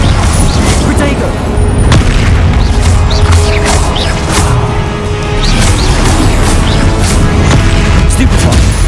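Confringo blasting spell explosions during a Hogwarts Legacy duel, with dense loud booms and crashes continuing throughout under game effects and talk.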